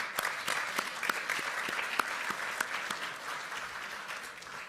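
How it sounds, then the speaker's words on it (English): An audience at an International Association of Parliaments for Peace gathering gives a steady round of applause, with crisp individual claps that stay fairly soft and even before tapering slightly at the end. "Let's give him a round of applause."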